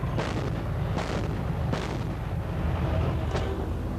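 Test firing of a naval gun aboard the French frigate Jean de Vienne: about four heavy booming shots at a fairly even pace over a constant low rumble.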